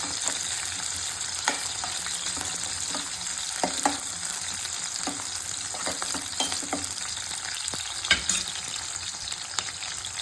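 Onions fry in a pan with a steady, close sizzle, broken by occasional clicks and scrapes from stirring, with no voices.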